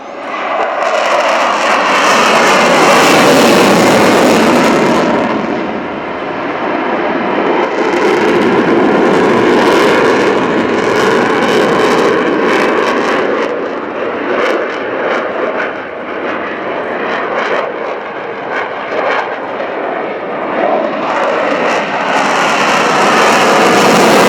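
A modernised Sukhoi Su-27 P1M fighter jet flies an airshow display at Fairford, its loud, continuous jet engine roar swelling and fading as it passes overhead.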